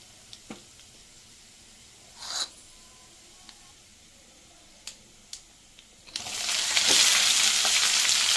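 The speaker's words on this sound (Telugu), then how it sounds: "చూసారా అండి ఉల్లిగడ్డలు ఎలా వేగుతున్నాయో" Onions and green chillies hit hot oil with dried red chillies and seasoning seeds for an egg fry, a few scattered taps and stirs, then a sudden loud, steady sizzle close up.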